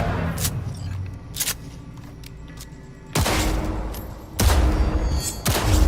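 Gunfire at a tactical target practice range in Cyberpunk 2077: scattered single shots at first, then heavy close bursts of rapid fire with booming impacts, punctuated by short gaps.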